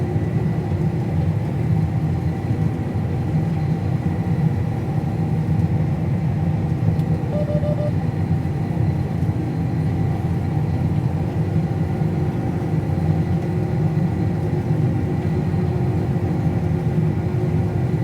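A farm vehicle engine labors steadily on a wheat hill as its wheels spin and it fails to climb, giving a continuous, monotonous low rumble with no letup, close and unbroken, with no talking.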